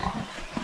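A farm-raised pig gives short, low, rough grunts, close and fairly loud, over a brief moment with steady outdoor background noise.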